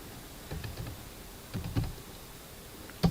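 Keys tapped on a computer keyboard while HTML code is typed, heard as small clusters of soft, close clicks separated by pauses, ending with a sharper tap.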